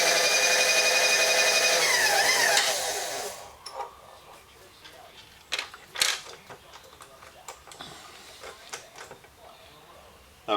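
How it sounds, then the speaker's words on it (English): A drill press table is lowered by its crank, giving a steady mechanical whir and rattling grind for a few seconds, followed by scattered clicks and knocks of the metal table settling. "And we're going to lower the table down."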